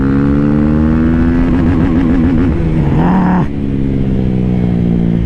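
A 2022 KTM RC 390 motorcycle engine accelerates loudly and close, its rising whine warbling through a gear change before settling at steady revs for the rest of the clip.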